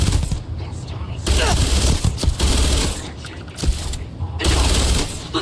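Enemy gunfire erupts in Starfield, with bursts of rapid shots and booms over a noisy game soundscape, alternating with brief quieter gaps.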